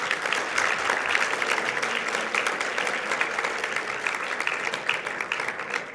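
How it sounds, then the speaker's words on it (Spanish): An audience at a book-fair talk applauds a science communicator in a steady, dense wash of clapping that holds at an even level throughout. "Un aplauso, por favor."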